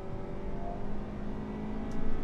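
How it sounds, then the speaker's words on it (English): A 2021 Toyota Corolla Hatchback engine revs under load, a grainy, rising mechanical drone heard steadily for a couple of seconds. "I'm not as pleased with kind of how grainy the engine sounds"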